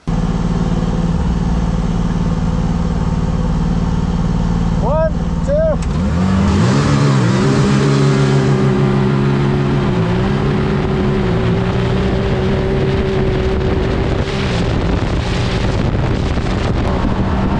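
A side-by-side off-road vehicle, Can-Am Maverick X3 or Polaris RZR, accelerates hard across snow, its engine rising from idle into a loud, sustained roar with shifting pitch as it pulls away under heavy wind noise on the microphone, with a brief spoken word.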